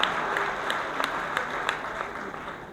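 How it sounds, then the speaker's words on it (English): Audience applause at a FICCI FLO Chennai chapter event, steady crowd clapping heard close and continuous throughout the short stretch, without talk. "So a big round of applause to him."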